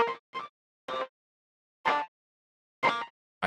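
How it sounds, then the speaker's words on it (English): A piano loop run through an analog-emulation plugin with a gate, heard as five short choppy bursts separated by silence, broken and scattered in rhythm. "the sound you just heard is a little scattery and broken in a way."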